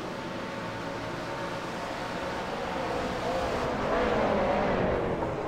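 A race car at the 24 Hours of Spa-Francorchamps roars past on track, a sustained engine drone that swells louder toward the end as it nears, with wind noise underneath.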